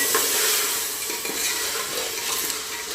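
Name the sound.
stirring green peas into masala rice in a pan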